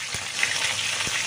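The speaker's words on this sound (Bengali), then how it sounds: "ভালো করে গরম করে নিয়ে এবার মাছগুলোকে সুন্দর করে ভেজে ভেজে তুলে নেব।" Pieces of kokila fish fry in hot oil with a dense, continuous bubbling sizzle and a couple of soft thumps.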